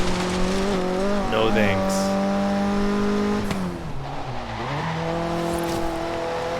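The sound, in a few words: race cars in video game Forza Horizon 3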